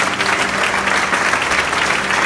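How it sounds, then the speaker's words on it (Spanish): A church congregation applauds the Lord, a dense, even burst of clapping from a crowd that fills a short moment. "Denle un aplauso al Señor."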